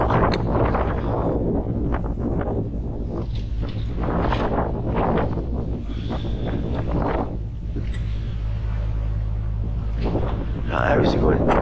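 Wind buffets a boat moving fast on the Norfolk Broads, a loud constant rumble across the microphone, with voices talking over it throughout.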